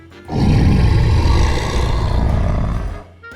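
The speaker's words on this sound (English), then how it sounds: "His tummy was growling like a monster." A stomach-growl sound effect styled as a rumbling monster roar, loud and continuous for about three seconds, deep and dense, fading out at the end.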